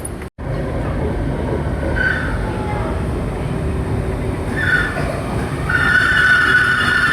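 Riding the LRT light rail train in Manila: a steady rumble inside the car, with brief high wheel squeals and a sustained squeal building toward the end.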